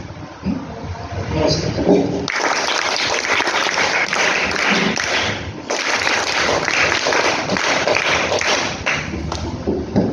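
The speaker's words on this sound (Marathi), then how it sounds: "तुम्ही काय करणार टाळ्या वाजवणार" A crowd of students at a high school event claps loudly and steadily for several seconds, a dense burst of applause that briefly dips, then swells again before fading slightly.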